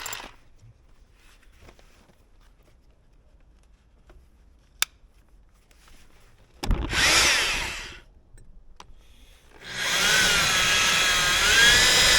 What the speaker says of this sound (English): when we're drilling it, we want to support it underneath